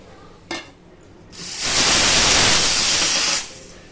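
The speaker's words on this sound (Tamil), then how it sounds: "ஆவி வந்துருச்சுமா நான் வெயிட் போட்டுறேன்" Steam hisses loudly and steadily from a pressure cooker as its weight is set on while lentil payasam cooks, a brief clack followed by about two seconds of broad, sustained hiss that then cuts off.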